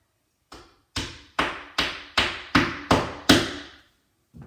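A hammer tapping plastic wall plugs into drilled holes in a wall, eight evenly spaced, sharp knocks, each ringing briefly before the next, close and clear.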